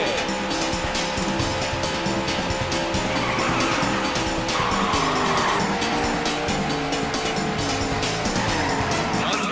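Race car engines roar continuously in the Daytona USA arcade racing game, with bursts of tire squeal and skidding mixed into a loud, dense wall of engine sound that shifts pitch as the cars rev and change gear.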